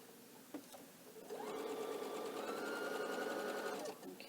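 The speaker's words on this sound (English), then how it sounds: "I'll put my next one under here and I'll sew that next line" A sewing machine stitches a straight line along faux piped binding, starting after a couple of faint handling clicks and running steadily at an even, close buzz for about two and a half seconds before stopping.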